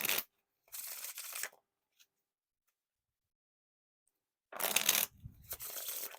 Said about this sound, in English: the more riffles and like bridges you do, the more like smoother they get